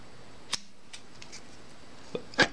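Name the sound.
scissors trimming the legs of a froggy fly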